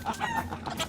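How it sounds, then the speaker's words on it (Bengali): A desi chicken clucks close by in short, rapid bursts that run through the whole brief moment, loud and clear with no talking over it. "দেশি মুরগি"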